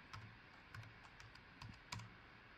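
A zip code is tapped out on a computer keyboard: about eight quick, light keystrokes in an uneven rhythm, close and quiet with no talking.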